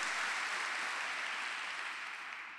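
A church congregation claps together in a dense, steady wash of applause that fades slightly toward the end.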